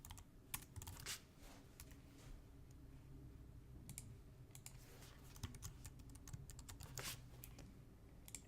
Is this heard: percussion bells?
no